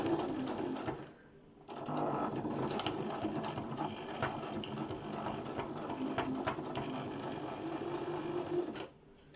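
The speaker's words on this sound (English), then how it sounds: "It's actually really difficult to sew and video what you're doing." A sewing machine stitches across the folded pleats of a fabric face mask, its steady close whir running almost the whole time with a brief pause near the start and a stop at the end.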